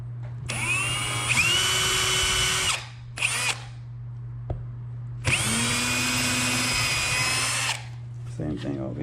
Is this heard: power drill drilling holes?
yes